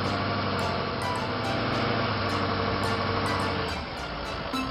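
A cartoon tractor hauling logs in a forest gives a loud, steady engine drone that runs without a break, with no voices over it.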